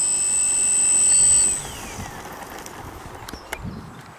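An XFly-Models 1.2 m Glastar RC trainer plane taxis on the ground in wind and rain. A thin electric whine rides over blustery wind rumble, then drops away after about a second and a half, leaving gusts and small knocks.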